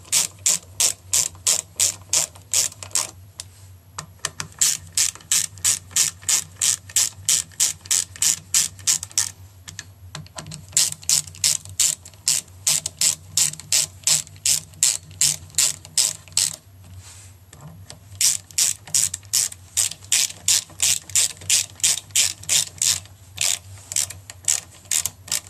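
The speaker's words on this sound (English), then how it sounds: "I just love a little peanut ratchet, like the snap-on ratchet." A small snap-on style peanut ratchet tightens water pump bolts on a Saab 9-3, rapid rhythmic clicking strokes repeating in bursts with brief pauses between, close and crisp.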